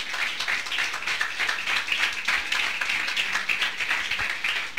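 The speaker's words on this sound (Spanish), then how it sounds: "Denle una ofrenda de aplauso al Señor." A church congregation claps together in praise, a dense, steady patter of many hands filling the whole stretch at moderate loudness with no voices standing out.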